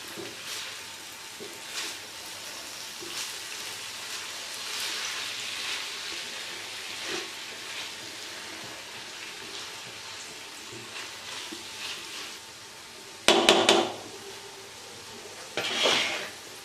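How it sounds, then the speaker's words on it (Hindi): Chicken tawa boti curry with cabbage sizzles in a pan while being stirred, a steady frying hiss with recurring soft scrapes and two sharp, louder bursts near the end. "इसको एक बार अच्छे से मिक्स कर लेते हैं।"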